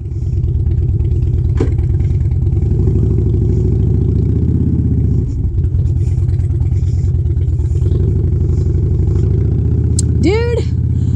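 A repaired Harley-Davidson motorcycle being ridden, its engine giving a loud, steady low rumble close by for the whole stretch, with a brief dip midway and a short high whine near the end.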